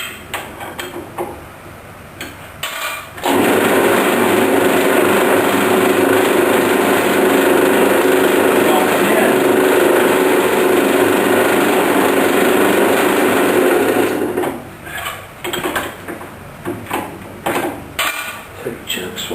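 A metal lathe runs steadily while center drilling a threaded boss, a loud continuous machine drone with a faint high whine that starts about three seconds in and stops near fifteen seconds, with quieter workshop noise before and after.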